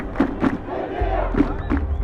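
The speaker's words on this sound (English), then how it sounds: "Crowds chanted slogans from the Arab Spring revolutions of 2011." Protest crowds in Khartoum chanting slogans in rhythmic bursts of many voices, a loud massed roar with regular shouted beats over a low rumble, close and continuous.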